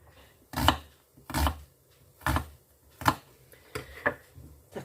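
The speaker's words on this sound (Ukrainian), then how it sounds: "ріжемо теж кубиками" Vegetables being chopped into cubes on a cutting board for a fry-up for Ukrainian rassolnik soup, six crisp knife strikes at an uneven pace, close and distinct.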